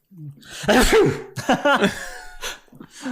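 A voice imitates a sneeze, with a gasping build-up and a sharp burst, followed by a couple of shorter breathy bursts.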